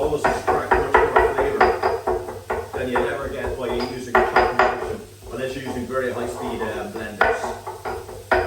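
Flat parsley and vegetables are pounded in a kitchen with repeated close, woody knocks in an uneven rhythm, briefly pausing midway, while a person talks over the thumping.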